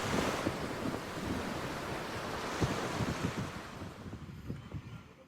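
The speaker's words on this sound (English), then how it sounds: "This is the actual sound of a beach in Costa de Caparica." Ocean surf rolls steadily onto the beach at Costa de Caparica, Portugal, a soft continuous wash of waves with wind buffeting the microphone, fading slightly toward the end.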